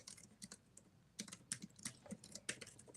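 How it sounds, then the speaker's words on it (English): Keys on a computer keyboard clatter in quick irregular bursts, faint and close, with short pauses between clusters of keystrokes. "Homer, why are we typing in all the titles?"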